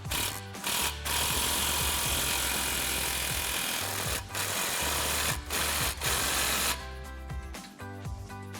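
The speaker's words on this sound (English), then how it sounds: "I've got my 15mm socket on my 3/8 impact, and I'm gonna tighten the clamp down." A 3/8-inch impact wrench with a 15mm socket tightens an exhaust clamp on a Jeep Wrangler JL, its loud sustained buzzing hammer running in several long bursts with short pauses between.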